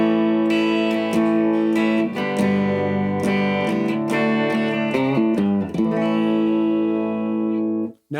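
Electric guitar on its bridge pickup through an amplifier with the mid frequencies cranked fully up, playing sustained chords and picked notes with a thick, effected tone, loud and steady until cutting off near the end.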